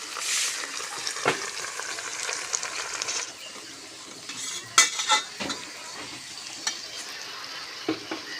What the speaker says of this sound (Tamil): வெங்காயம் நல்லா வதங்கிடுச்சு இப்போ கொஞ்சமாக புதினா தலை கொஞ்சமாக கொத்தமல்லி தலை